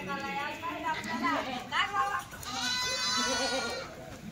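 Kathiawadi goats, pregnant does, bleat repeatedly at a livestock market, several wavering cries overlapping one another against a steady background of crowd noise and nearby voices.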